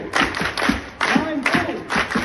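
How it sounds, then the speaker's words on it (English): A student council election audience performs a rhythmic protocol clap: groups of sharp, loud claps in a counted pattern with short pauses between bursts, a voice calling out over them. "Let's have a protocol clap."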